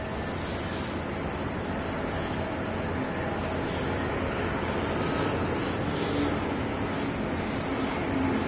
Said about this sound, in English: STARLUX flight 2 coming in from Taipei, the A350-900, arriving in Los Angeles for the very first time.